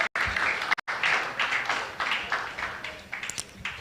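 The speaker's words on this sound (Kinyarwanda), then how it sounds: "mureke gukubita amashyi" A crowd claps steadily at a Gatumba memorial commemorating Banyamulenge genocide victims, a dense, continuous wash of applause with a couple of brief dropouts and slight surges near the end.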